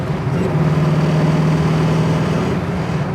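A 1968 Camaro's V8 pulls hard through third and fourth gear, a loud, steady engine roar that holds a rising drone throughout with no talk over it.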